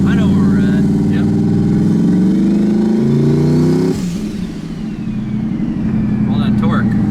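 A turbocharged LSX-swapped Chevrolet Colorado accelerates hard with a loud rising engine roar through the gears, then drops off after a shift, heard from inside the cab with people talking.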